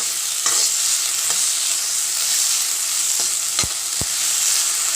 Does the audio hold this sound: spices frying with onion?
yes